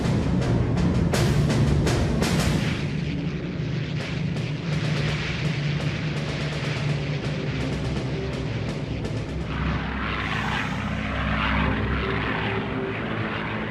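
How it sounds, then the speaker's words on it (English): Hurricane and Spitfire fighter aircraft propeller engines, a loud rumbling drone that swells and shifts as the planes pass, with sharp crackling bursts at the start. "A further 10 Hurricane and 9 Spitfire squadrons waiting at dispersal are ordered into the air."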